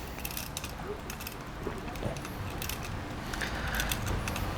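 Screwdriver work tightens a screw on the bumper mount of a Tamiya Frog model kit, giving close, quiet clicking and ratcheting ticks in an uneven, continuous run.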